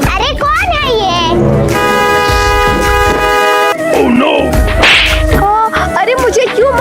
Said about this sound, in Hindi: इतनी देर से देख रही हो, तुम हॉर्न बजाते जा रहे हो।